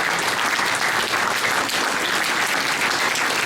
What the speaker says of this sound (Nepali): हामी ठुलो ताली बजाउनेछौँ।